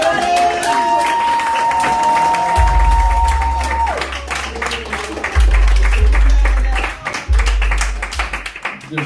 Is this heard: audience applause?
yes